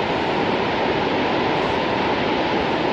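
Shoshone Falls, a big waterfall on the river, roars loud and steady throughout as a dense, unbroken wash of falling water, heard up close with no voices.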